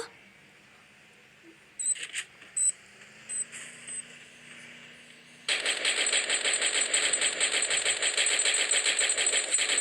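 Continuous rapid automatic gunfire in the mobile shooter Free Fire Max, a dense, steady rattle starting abruptly midway and running to the end, preceded by a few sharp clicks and short single shots.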